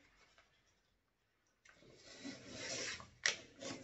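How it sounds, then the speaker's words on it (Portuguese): An old picture frame is sanded by hand with a small scrap of sandpaper, giving a soft, close rasping rub that starts after a quiet pause and continues unevenly with a sharper scrape near the end. "Agora nós vamos lixar para depois passar cera de novo."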